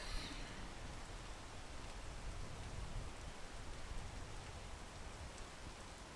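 Rain falls steadily outdoors near a tree, a soft, even wash of drops on surfaces that stays constant throughout, fairly faint, with no voices.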